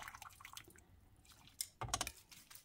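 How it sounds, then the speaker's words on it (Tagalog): Water splashes and drips as cooked Korean japchae noodles are drained and rinsed, with soft wet clattering bursts and a louder rush of water near the end. "so hanguin na natin at banlawan"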